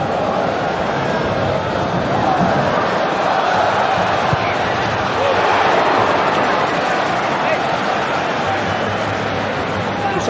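A football stadium crowd gives a dense, sustained roar that swells slightly in places, with commentary heard over it.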